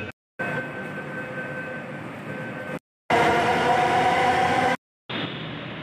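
Inside a Bangalore Namma Metro train, a steady broadband rumble and rush of the moving carriage fills the space, broken by several abrupt cuts, with a faint tonal whine in one stretch.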